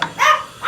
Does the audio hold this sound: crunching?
no